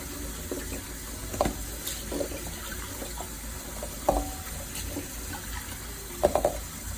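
Cold tap water pours into a pot of boiled eggs with a steady running splash, broken by occasional clunks and knocks as the eggs shift.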